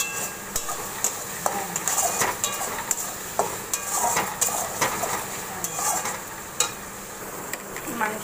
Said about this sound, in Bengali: নুন দিয়ে দিলাম হালকা মশলা কষানোর জন্য